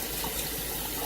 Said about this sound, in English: and I put hot water to the fill